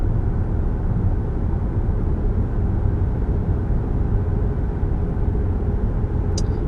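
Inside a 2022 Volvo XC60 Recharge R-Design plug-in hybrid cruising at 55 mph, a steady, loud, broadband roar of road and tire noise fills the cabin without speech, with a faint brief chirp near the end.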